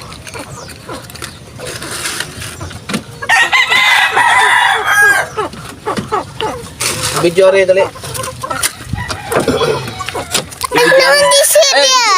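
Chickens at a home egg incubation setup cluck and crow loudly and close by in repeated bursts, with a rooster's crows standing out and people talking in between.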